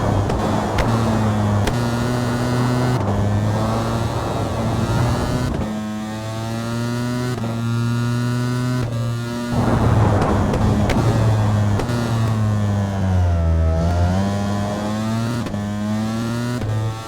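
A superbike engine revs in the VR racing game VRider SBK, a loud, steady whine that climbs and drops in pitch through repeated gear changes, with no speech over it.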